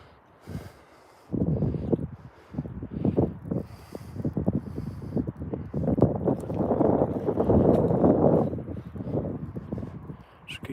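Strong wind gusts buffet an outdoor microphone during heavy snow in the UK, with loud, rumbling surges that build and fade after a quiet opening moment.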